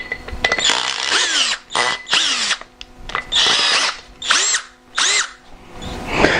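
A Harbor Freight Bauer 20-volt hammer drill whines in short bursts with a rising and falling motor pitch, stopping and starting repeatedly. The drill sounds close and loud, with a rough, rattly tone that suggests poor build quality.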